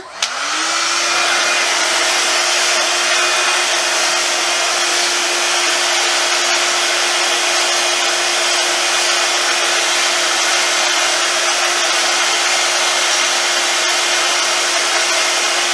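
A hair dryer runs steadily while blow-drying hair, a loud close whooshing roar that switches on at the start and holds an even tone throughout.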